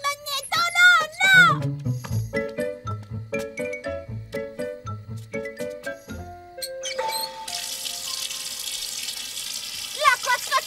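Cartoon bath scene with a tap running to fill a child's bathtub. Music and a voice come first, then steady, moderately loud rushing water takes over for the last few seconds.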